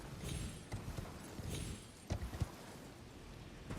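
Horse hooves clip-clop in Elden Ring, a few uneven, muffled steps over a steady low rumble with no other clear sounds.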